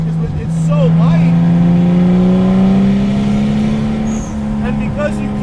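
A 400 WHP 2JZ-swapped Datsun 260Z rat rod with a sequential turbo setup drones loudly and steadily from inside while cruising between corners at moderate revs, its engine note rising slowly, with a brief dip near the end.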